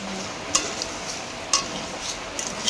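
Dal is stirred in a pan to keep it from burning, with a low background sizzle and a few distinct spoon taps against the metal at roughly one-second intervals.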